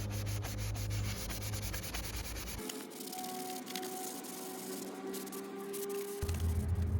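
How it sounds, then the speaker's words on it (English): A sandpaper block soaked in alcohol scrubs the top of a rusty O gauge tubular track rail, making a steady close abrasive rubbing that runs through the clip, with no talk. "I take the sandpaper block, again you can use a regular sheet, and I soak it in the alcohol like so, and then scrub the top of the rail"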